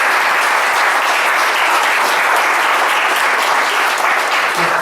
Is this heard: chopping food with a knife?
no